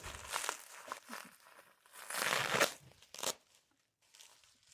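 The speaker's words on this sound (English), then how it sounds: "We're about to unwrap our brass lizard." Packaging around a brass lizard door knocker from an antique shop in England is crinkled and torn open in irregular bursts of rustling and crunching, close and fairly quiet, with brief pauses and no speech.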